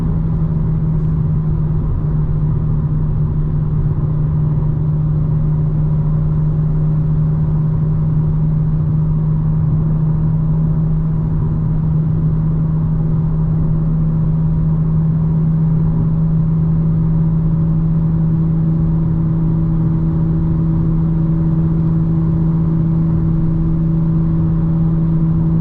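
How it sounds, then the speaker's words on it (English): Steady drone of a 2025 BMW M4 engine downshifting instead of braking while driving at night, a loud continuous low hum with a constant engine tone and little change across the stretch. "See, I downshifted there instead of braking."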